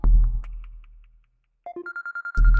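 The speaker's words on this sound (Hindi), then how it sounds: "देखिए किसका फोन है।" A phone rings indoors with a repeating electronic tone that pulses in a quick series of short beeps. Voices come before and after it.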